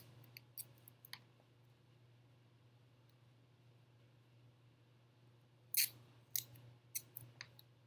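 Sticky tape being pulled and torn while assembling a paper bridge truss, heard as a few sharp tearing rasps near the start and a louder cluster of crackly rips later, close up over a steady low hum in a quiet room.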